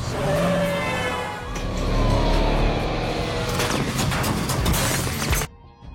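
A police car races through a film chase scene, engine roaring and revving loudly with sweeping tonal whines and rushing noise, building and then cutting off abruptly near the end.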